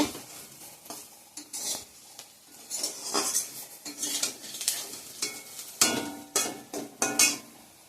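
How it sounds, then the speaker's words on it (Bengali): A pan of fried bitter gourd and potato is handled as it comes off the heat, with a run of metal spoon scrapes and pan clanks over a faint sizzle, close and irregular. "ভাজাটা নামিয়ে নিয়ে ডাল বসাই দিব"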